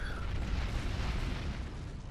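A Viper cannon shot in the game Planetside 2: a heavy, rumbling blast with a broad noisy roar that sustains for about two seconds, loud and close, with no voices.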